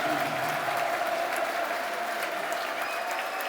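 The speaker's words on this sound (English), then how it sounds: "Good applause for Romain." Football crowd at Millwall against Sheffield Wednesday applauding a substituted player leaving the pitch: a broad, even wash of distant stadium clapping, steady and moderately faint across the whole stretch.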